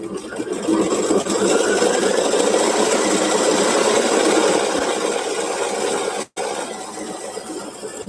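An embroidery machine stitches out a letter in a steady, loud mechanical whir with rapid needle chatter, continuous and close, briefly cutting out near the end before resuming.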